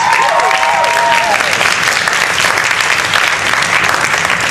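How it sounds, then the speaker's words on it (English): Dense, loud audience applause fills a medical school class show opener, sustained and even from start to finish, with a brief voice at the beginning. "Let's just give him a round of applause for solving problems."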